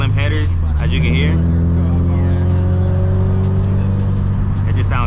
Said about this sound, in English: this car just sounds really good with the headers that I have on here